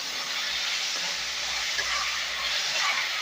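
Banana stem kootu sautéing in a pan with salt, giving a loud, continuous close sizzle with steady frying hiss throughout and no voices.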